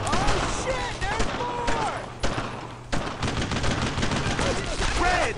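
Heavy, sustained gunfire in the WWII shooter Brothers in Arms: Road to Hill 30, with dense overlapping rifle and machine-gun bursts filling the mix while shouted voices cut through the battle.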